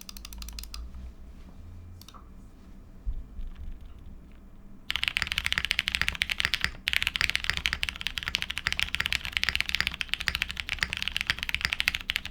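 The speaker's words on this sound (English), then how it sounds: "This is how loud the mouse clicks are." Rapid computer mouse clicks from a Tomo SE custom build, faint and sparse at first, then a dense, loud run of crisp clicking.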